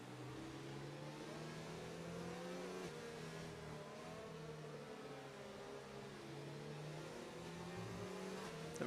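A Mercedes AMG race car in a racing video game at Belgium holds a steady engine drone that rises and falls gently in pitch with the revs, alone and moderately close, with no talking.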